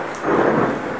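Thunder from an approaching storm rolls in as a deep, broad rumble that swells and holds over steady rain, loud and close.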